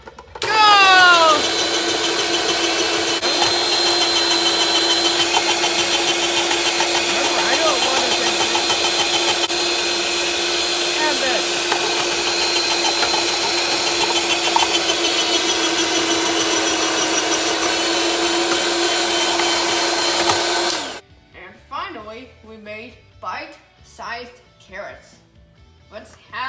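An electric Salad Shooter slicer whirs steadily and loudly for about twenty seconds while shredding carrots, its motor tone holding constant before cutting off, after which people talk.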